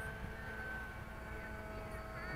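An RC model Trojan airplane flies past at an outdoor flying field, a steady engine drone holding for a couple of seconds with a faint whine and no talk.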